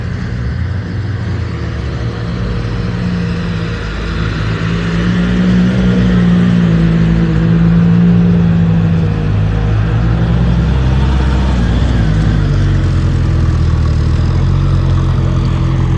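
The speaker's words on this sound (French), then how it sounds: "Ferrari Monza SP2." A Ferrari Monza SP2 engine on the streets of Monaco gives a loud, steady, deep rumble, with revs swelling gently through the middle. No voices.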